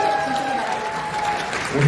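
An audience at a welfare council's pre-ceremony performance applauds an encore, its dense clapping running steadily under an announcer's voice and a faint sustained musical tone.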